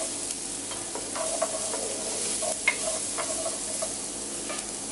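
Onions and garlic sauté in a pan, a steady moderate sizzle with occasional scrapes and taps of the stirring utensil against the pan.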